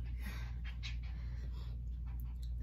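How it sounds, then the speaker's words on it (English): A dog pants quietly in a rapid, steady rhythm close by, soft breathy puffs over a low background hum, with no talking. "If y'all hear noise, that's my dog."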